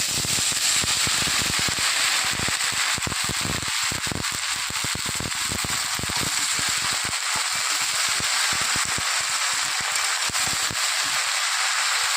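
Chopped water lily stems drop into hot oil with lightly fried garlic and onion, setting off a loud, dense, continuous crackling sizzle that fills the whole stretch without letup.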